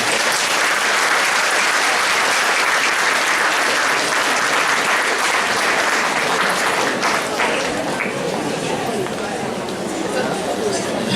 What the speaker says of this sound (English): would you mind just giving a very big round of applause to all of our candidates?